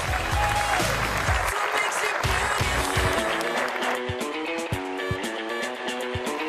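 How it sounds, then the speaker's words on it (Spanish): Audience applause at the commercial launch event for the Santiago 2014 South American Games, a dense, loud wash of clapping filling the room, thinning toward the end as music or a tone emerges underneath. "les voy a pedir desde ya el primer aplauso de la noche"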